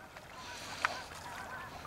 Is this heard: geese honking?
yes